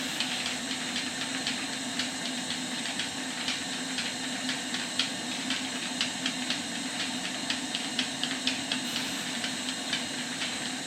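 Soft, rapid chuffing of a small model steam engine, running on a kitchen table at 60 psi, runs steadily under a constant hiss, the exhaust beats even and fairly quiet throughout.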